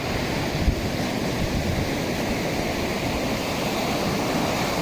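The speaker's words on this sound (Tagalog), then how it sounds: "Lakas ng alon, no?" Heavy surf crashes and roars steadily at a beach near a river mouth around midday, a dense, continuous wash of strong waves close by with wind noise, no voices.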